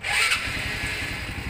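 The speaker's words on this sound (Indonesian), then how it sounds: "Nyalakan motornya." A motorcycle engine starts up close by, with a brief cranking surge that settles into a steady, rumbling idle over a second or so.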